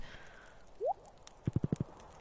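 Horse hooves in the Stardew Valley farming video game: a quick run of about five crisp, close clip-clop steps after a short rising chime, with no voices.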